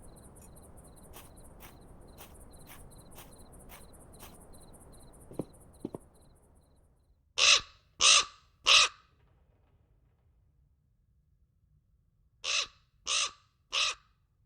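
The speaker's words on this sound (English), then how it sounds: "The damn bird again. He's got his own private way into this room." A raven in The Black Mirror II video game caws in two bursts of three loud, harsh calls, close by, over a quiet backdrop of chirping crickets and a couple of faint clicks.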